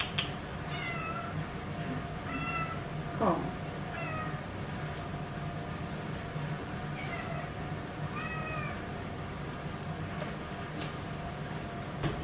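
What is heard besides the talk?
cat meowing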